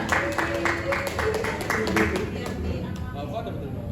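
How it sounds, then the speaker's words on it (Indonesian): Classroom students clap their hands in an even, rhythmic burst that fades out toward the end, with voices around it. "Tepuk tangan dulu semuanya."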